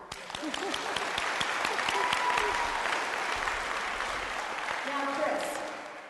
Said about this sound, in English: Oh, let's clap for Zach.